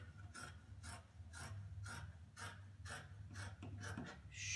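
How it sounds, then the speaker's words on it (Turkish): Scissors cut through fabric for a pajama pattern with a steady series of about ten soft, close snips, evenly spaced over a low background hum. "Hemen 1 santim pay vererek kesiyorum."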